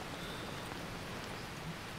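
Steady rain falls during the rainy season in the jungle survival game Green Hell, a dense, even hiss of drops with no voices over it.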